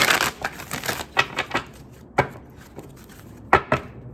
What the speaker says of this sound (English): Let me shuffle these more.